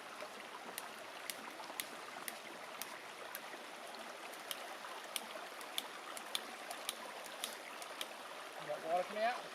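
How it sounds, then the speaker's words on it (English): A hiking water filter being hand-pumped beside a trail on Mt. Whitney, with filtered water trickling out in a soft, steady stream; faint regular ticks from the pump strokes sit in a quiet outdoor background. "I got water coming out."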